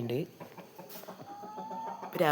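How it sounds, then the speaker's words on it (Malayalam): Free-range country chickens and a rooster gathered for their morning feed on open ground at 8 a.m., clucking and calling steadily and fairly close, with a person's voice audible in the background. "8 മണി നമ്മൾ കോഴിക്ക് തീറ്റ കൊടുക്കാൻ വന്നതാണ്"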